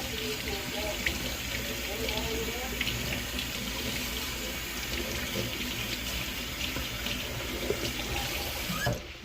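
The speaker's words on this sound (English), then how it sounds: "Let me rinse my hand just a little bit." Water runs steadily from a kitchen tap as a hand is rinsed beneath it, a continuous close splashing hiss lasting several seconds before cutting off at the end.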